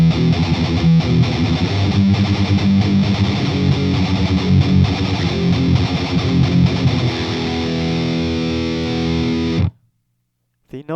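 A heavily distorted electric guitar rings out loud and sustained through an Engl Fireball 100 amp and E412 Pro cab with a noise gate, chords holding and decaying before cutting off abruptly into silence.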